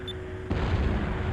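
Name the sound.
explosion off a ship's port bow in video game Skies of Arcadia Legends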